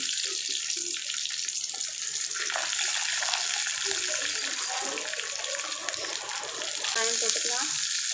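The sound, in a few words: curry leaves and dried red chillies frying in oil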